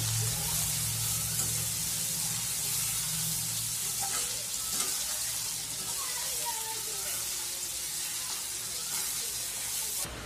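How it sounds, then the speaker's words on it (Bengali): Chopped onion frying lightly in a pan for spiced potato-and-egg keema, a steady close sizzle with faint stirring and scraping throughout, over a low background hum. "পেঁয়াজটাকে আমি হালকা করে ভেজে নেব।"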